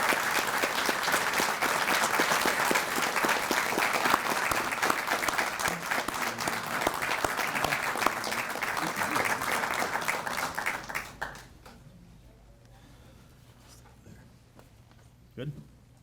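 Police department promotions and swearing-in ceremony audience gives a loud, sustained round of applause for two officers receiving a life-saving award, dense clapping for about eleven seconds before fading to a quiet room with a faint knock.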